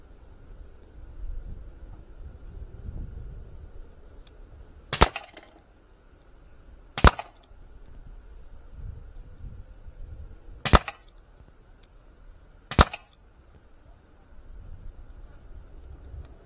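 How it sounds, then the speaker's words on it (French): Artemis CP400 air rifle firing RWS Diabolo Basic pellets: four sharp cracks spaced about two seconds apart, loud against a quiet background. "Je finis ces quatre derniers plombs et on passe au test de groupement."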